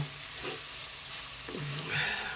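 Cabbage pieces with salt, chilli, masala powder, cloves and cardamom are stirred in a hot pan for palya, with a steady sizzle and short scraping strokes of the spoon.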